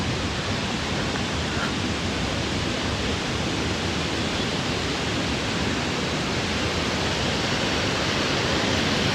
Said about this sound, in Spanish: Aquí tienes otra vista de las cascadas.